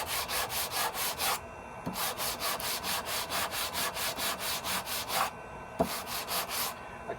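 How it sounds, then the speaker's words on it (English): Steady, rhythmic strokes of sandpaper on the wooden handle of an old Norlund axe under restoration, a close, regular back-and-forth rasp that pauses briefly twice before resuming. "My anxiety is that I would sand more than I need to and take off too much stock."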